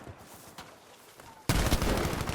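In Battlefield V, an M30 Drilling gun cuts in after a quiet stretch of faint game ambience with a sudden loud, dense blast of gunfire that continues to the end.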